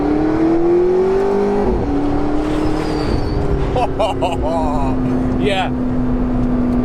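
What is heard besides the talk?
McLaren 650S Spider engine accelerating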